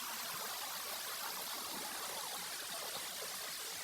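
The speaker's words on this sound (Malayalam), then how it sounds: "പാറക്കെട്ടുകൾക്കിടയിലൂടെ വെള്ളം ഒഴുകി വരുന്നത് നമുക്ക് ഈ വീഡിയോയിൽ കാണാം" Water rushing between rocks near a forest waterfall, a dense, even roar that stays steady throughout with no voices.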